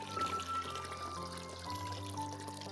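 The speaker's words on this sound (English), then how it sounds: "The same pouring thing that they had for the tea earlier, but I do like the sound effects." A heavy watering can with golden swirls pours water onto a plant as a visual novel game effect, a soft, steady trickling stream over a quiet backdrop of background music.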